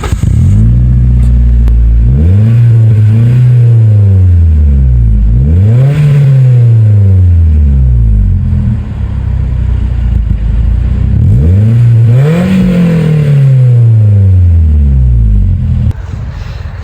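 A Toyota Auris SR car engine revs up close in several rising sweeps, each climbing in pitch and then falling back to a loud, rumbling idle, with no talking.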